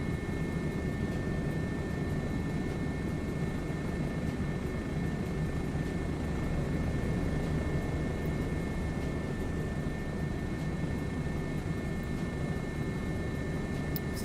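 Aircraft engine during a flyby in a flight simulator game, a steady, loud droning roar with a thin constant whine on top, unbroken throughout and without voices.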